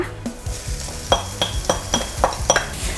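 Preserved radish is stir-fried with set egg in a pan, heard as regular, closely spaced spatula scrapes over a steady frying sizzle.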